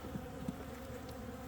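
Honeybees buzz in a hive after the queen has left, a close, continuous droning hum with a couple of brief louder buzzes.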